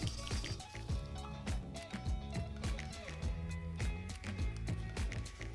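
A Lotus Europa engine valve being lapped into its cylinder head makes a close, rapid, rhythmic gritty scraping with repeated short strokes and no voices.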